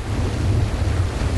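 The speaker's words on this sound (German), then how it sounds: "Der Wind gönnt sich leider immer noch keine Pause." Strong coastal wind roars steadily against the microphone on an Irish shoreline during a fishing trip, a dense low rumble with no voices.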